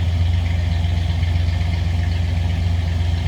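A 1970 Cadillac Fleetwood Brougham estate wagon's 472 V8 idles steadily up close, a deep even rumble with a fast regular pulse and no talking.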